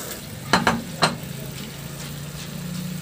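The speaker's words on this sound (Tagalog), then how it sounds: "ihalo lang din para masama na rin sa paggisa yung ating malagkit" Soaked glutinous rice is stirred into meat and bell pepper sautéing in a pan for valenciana, giving a steady sizzle with a few sharp scraping clacks of a utensil against the pan early on.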